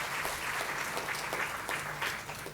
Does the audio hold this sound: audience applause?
yes